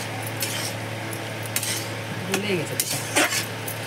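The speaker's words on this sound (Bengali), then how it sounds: "এবারে ঢাকনাটা খুলে দেখবে লাউ আর ডালটা কতটা ভেপেছে" A metal lid clinks and scrapes as it comes off a pot of bottle gourd and dal cooking on the stove, a few short sharp metallic knocks over a low kitchen hum.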